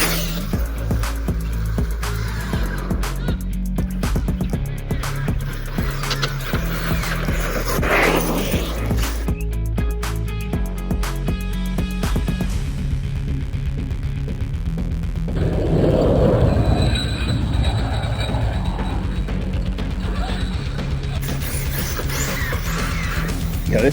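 Arrma RC car with a Gen 8 6800 mAh battery driving hard outdoors, its motor whine and tires rumbling loud and close, with bursts of acceleration and scraping impacts throughout and no talk.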